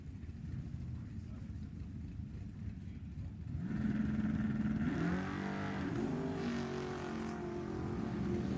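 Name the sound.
drag race cars launching, 69 Camaro and 73 Nova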